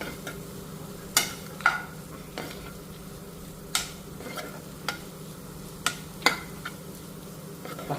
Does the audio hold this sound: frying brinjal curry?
yes